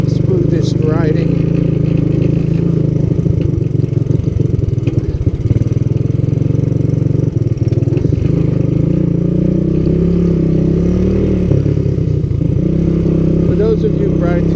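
A vintage Honda ATC200S three-wheeler rides trails at low speed, its engine a loud, close, continuous low drone with uneven throttle swells and rattles, and someone talks over it throughout.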